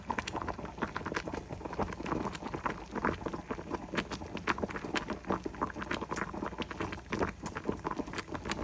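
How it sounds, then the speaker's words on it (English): A pot of food with rice and onions bubbles and patters quietly at close range, a steady, dense stream of small soft pops and crackles with no talk. "Boiling."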